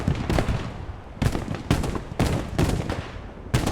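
Gunfire in the WWII shooter Post Scriptum during a trench assault, with repeated sharp rifle and machine-gun bursts arriving at irregular intervals over a constant rumble of distant battle.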